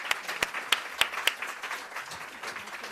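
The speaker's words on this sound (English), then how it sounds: "let me just ask you to give a final round of applause for a terrific panel" An audience at an age-friendly city forum gives a round of applause for a panel, with a few sharp claps standing out at first before they blend into softer, scattered clapping in a large room.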